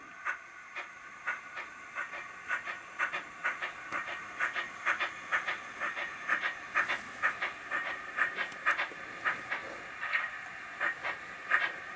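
Model train locomotives run together as a DCC-controlled consist, giving a steady rhythmic chuffing with regular hissing pulses, close and moderately loud.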